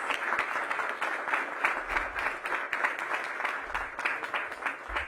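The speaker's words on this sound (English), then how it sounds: "let's give our demonstrators a big round of applause" Audience members clap for people who have just demonstrated an AED, a moderately loud, steady patter of many hands with slight surges throughout.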